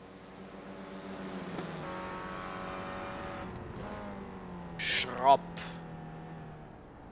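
Renault Clio Cup race cars lapping the Tsukuba circuit in a racing video game: a steady engine drone with rising and falling pitch as gears shift, and a brief squeal of tyres, under continuous commentator talk.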